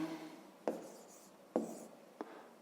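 A pen or pencil writes by hand on paper in a quiet room during a Grade 5 maths exercise, leaving a few soft scratchy strokes and three faint taps.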